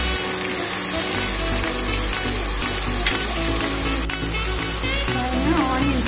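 Onions fry in a pan on their way to golden brown for a garlic prawn fry, a steady close-up sizzle and crackle running without a break, with a low hum beneath.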